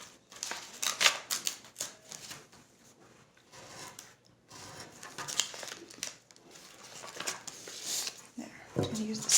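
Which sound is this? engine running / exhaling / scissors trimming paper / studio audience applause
scissors trimming paper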